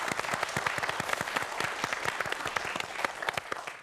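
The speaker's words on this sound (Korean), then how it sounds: "박수 부탁드리겠습니다" A studio audience at a televised science-and-magic lecture show applauds continuously, dense rapid clapping filling the room at a steady level without talk.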